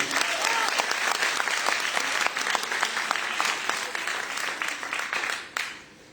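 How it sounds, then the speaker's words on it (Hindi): A women's day celebration crowd applauds the Goa achievers with dense, sustained clapping that fills the hall evenly before dropping off sharply near the end. "एक बार तालियां होनी चाहिए गोवा चिवर्स के लिए"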